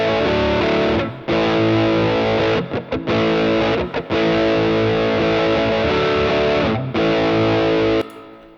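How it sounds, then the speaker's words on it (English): Electric guitar through two stacked overdrive pedals rings out in thick, sustained distorted chords with a few brief gaps between strums, loud and alone before stopping abruptly. "These two pedals together with the drives both turned down almost to nothing is a sound that I absolutely adore."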